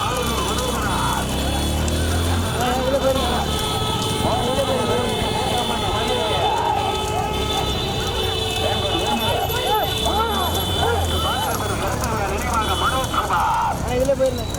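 Racing bulls' hooves clatter in a bullock cart race as a rapid, rolling stream of beats, largely under a loud, continuous announcer's voice over crowd noise.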